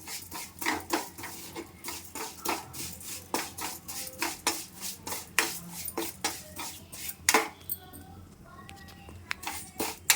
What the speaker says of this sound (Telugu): ఇప్పుడు మనం జీడిపప్పు, ద్రాక్ష వేగించుకున్న నెయ్యిలోనే సేమ్యాలు కూడా వేసి కొంచెం గోల్డెన్ కలర్లోకి వచ్చేదాకా అట్లా ఫ్రై చేసుకోవాలి.